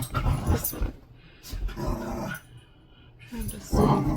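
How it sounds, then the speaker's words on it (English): Pet dogs growl and scuffle as they run around indoors, with rough bursts of grumbling and movement, and a person talks over parts of the commotion. "Oh, my dogs are running wild."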